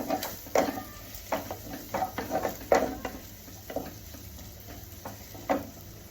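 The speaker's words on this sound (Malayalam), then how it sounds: "ഞാൻ ആ റൈസ് വെച്ച പാത്രത്തിൽ തന്നെയാണ് ഈ സവോള ഇട്ട് വഴറ്റണത്" Onions sauté in the same pot used for rice for a vegetable biryani, with soft intermittent stirring scrapes and a faint sizzle, quiet and close.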